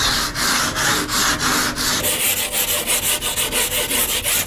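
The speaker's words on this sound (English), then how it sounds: "I have to sand down this edge all around the perimeter" Hand sanding along the fiberglass edge of an old paddleboard, a steady run of close, loud abrasive rubbing strokes that quicken into shorter, faster back-and-forth passes, with no talking.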